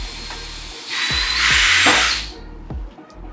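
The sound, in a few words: drilling a hole with a drill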